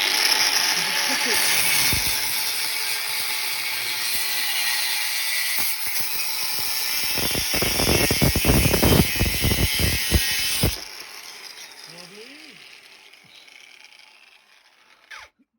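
Power tool with a cutting blade slicing a nine-inch shelf piece, a loud sustained buzzing cut with a burst of rough grinding near the end before the blade stops abruptly, leaving quiet room noise.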